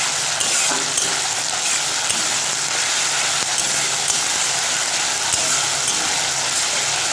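Ginger garlic paste with a little onion fries steadily in a pan, a continuous loud sizzle with faint stirring scrapes and no talking.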